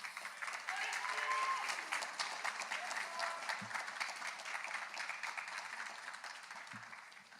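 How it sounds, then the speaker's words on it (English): Graduating seniors at a high school awards night stand and applaud the audience, a sustained roomful of clapping that swells early and then slowly tapers, with a murmur of voices beneath it. "Seniors, please rise and give everybody a nice round of applause as a thank you."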